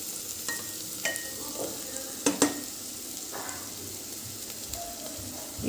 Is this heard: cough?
no